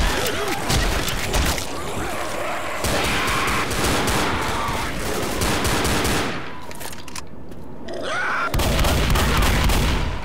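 Rapid auto shotgun fire in Left 4 Dead, repeated loud close blasts in bursts across the whole stretch, with a brief quieter gap before the shooting resumes.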